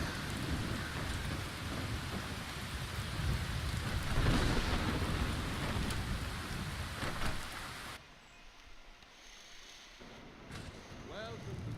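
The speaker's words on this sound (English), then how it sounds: "we're gonna need to get out of this rain" Steady heavy rain with rolling thunder in the video game Skyrim, a dense wash of downpour that drops to a quieter ambience partway through, with a voice talking over it.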